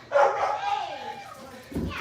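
A dog gives a single drawn-out, whining bark, fairly close and clear, ending abruptly with a faint thump.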